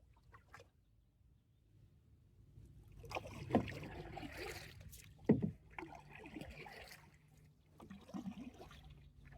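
A 10.5-foot, 22-pound Bart Hauthaway pack boat paddled with a canoe-style J stroke, soft paddle splashes and water gurgles at an irregular pace, quiet and close.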